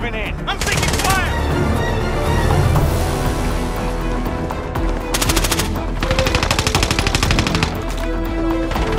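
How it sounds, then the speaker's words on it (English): Gunfire in Call of Duty Warzone Rebirth crackles in loud bursts of rapid automatic shots, with sharp broadband cracks clustered early and again in the middle, under game voice callouts. "I'm taking fire!"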